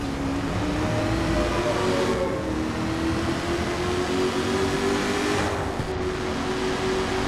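Car drifting through curves in the Watch Dogs video game, a loud sustained engine drone with a slowly rising revving pitch and tire noise, continuous and close.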